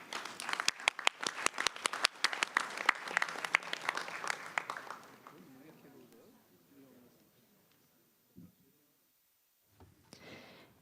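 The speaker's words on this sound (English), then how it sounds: "Please give another round of applause to signatories" Audience applause for signatories at a tourism expo forum ceremony, loud dense clapping for about five seconds, then tapering off into faint scattered claps and quiet room noise.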